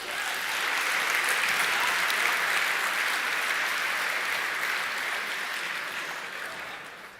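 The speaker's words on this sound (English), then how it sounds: "One more applause, please." Audience applause at a software conference, a loud continuous wash of clapping from a full hall that swells, holds steady for several seconds, then gradually fades.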